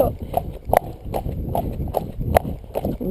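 A horse trotting under a rider in a schooling session, with evenly spaced hoof clip-clops in a steady rhythm, fairly close, over a low background rumble.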